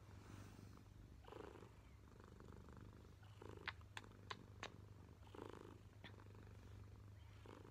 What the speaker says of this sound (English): She's purring, and we're having a moment.